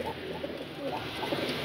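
Caged pigeons cooing softly in the evening, low rolling coos repeating close by in a quiet setting.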